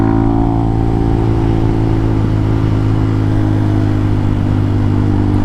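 A Honda Hawk 250 motorcycle idles steadily up close with a dense, continuous exhaust rumble, its slightly rich running giving a rough, uneven tone with small pops and crackles throughout, no voices present.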